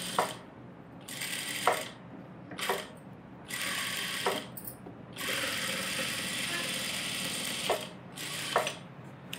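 A tailor's sewing machine stitches the neckline of a child's blouse in short mechanical bursts of rattling, whirring needle action, separated by quiet pauses, close by.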